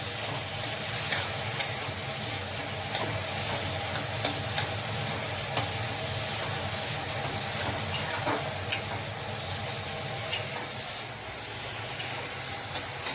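Burnt potato chutney being stirred in a pan gives a soft continuous sizzle with light scraping taps of the spoon at irregular intervals, close and fairly quiet, with no talk.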